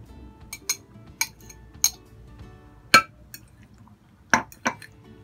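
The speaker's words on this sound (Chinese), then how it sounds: "將佢攪勻就可以攞去煎噶啦" Eggs are beaten with small oysters in a bowl, with a handful of separate, bright utensil clinks against the bowl amid near silence, no voices.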